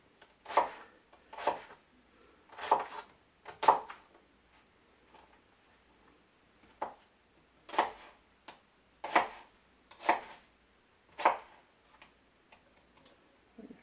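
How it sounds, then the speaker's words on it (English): A knife chopping a medium yellow onion coarsely on a board for kimchi, making sharp, separate thuds in small irregular bursts with brief pauses between them, close and clear with no talk. "Yellow onion, the kind of medium-sized one. And don't need to chop this too finely."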